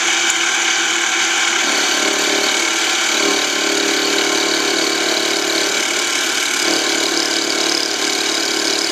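A milling machine cuts a slot for a .22 LR shell holder, giving a steady, loud machining whine and motor drone that runs unbroken throughout, with small shifts in the cutting tone.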